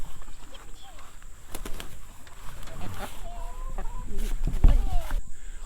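Chickens clucking in a farm setting, with several birds giving intermittent clucks and squawks near and far, and a voice talking at times underneath.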